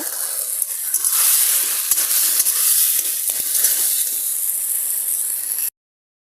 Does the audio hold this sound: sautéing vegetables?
yes